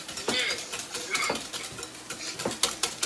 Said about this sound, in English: as you can hear, it's frying. You can actually kind of hear that little popping sound